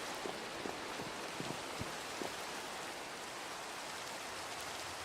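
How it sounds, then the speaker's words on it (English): Steady rain falling in the Minecraft Java video game, a continuous even hiss with scattered soft drip ticks, moderately loud and alone with no voices. "Oh, it's raining?"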